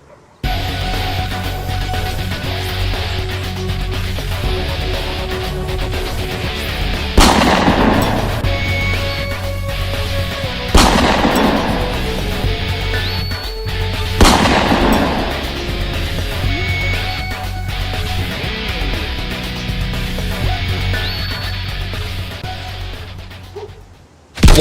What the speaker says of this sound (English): I think someone's shooting at us, boss.